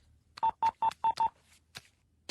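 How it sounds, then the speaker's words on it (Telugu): A telephone keypad dials five quick DTMF tones in an even rhythm, followed by a couple of faint clicks, with no talk, in a Telugu comedy film. "వాళ్ళకి ఫోన్ చెయ్యి."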